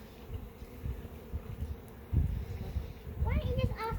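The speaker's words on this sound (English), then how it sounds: "Look at all those bees" Bees hum in a continuous low drone at an open beehive, close by and fairly loud, while people talk over the buzzing.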